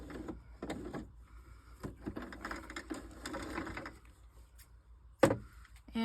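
A sewing machine back stitches fabric in short, whirring bursts separated by pauses, ending with a sharp clack; moderately quiet with no talking.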